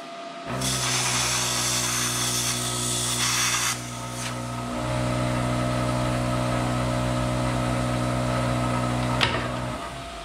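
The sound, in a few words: plasma cutter cutting around a washer on a truck body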